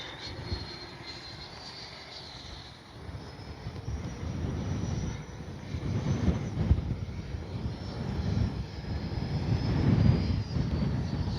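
An FMS 80mm F-86 Skyblazers RC jet makes a gear-down flyby: a steady ducted-fan whine with wind rumble that swells louder toward the end as the model passes close.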